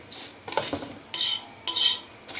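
Rice being stirred into golden fried vermicelli in a pot for Egyptian-style rice, heard as a few close scraping and clinking strokes of a utensil against the pot, with faint sizzling in the gaps.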